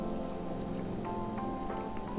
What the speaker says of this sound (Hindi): तो ये देखिए बॉयल आ गया है पानी में।